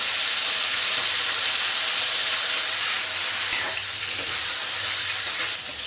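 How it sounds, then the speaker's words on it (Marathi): Eggplant frying in oil in a pan, a continuous even hissing sizzle at moderate level with no talk. "सुरुवातीला वांग तळते फ्राय करते असं तेलामध्ये"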